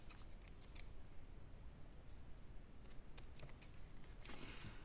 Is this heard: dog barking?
no